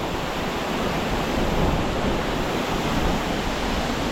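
Waterfall spray at Lake Toba pours down in a steady, loud, close wash of broadband roar, constant and unbroken, with no voices.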